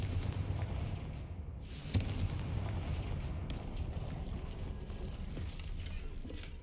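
A Confringo spell bursts in the Hogwarts Legacy video game as a sharp blast over a steady, loud low rumble of game sound, with a second swell of noise following a moment later.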